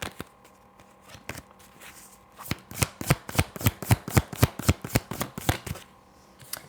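Tarot cards being shuffled up close, starting with sparse riffles and then a fast, even run of about fifteen crisp snaps before easing off.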